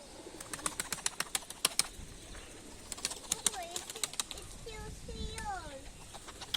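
Pigeons flap and clatter their wings in quick bursts, with soft cooing and a voice speaking nearby, fairly faint overall.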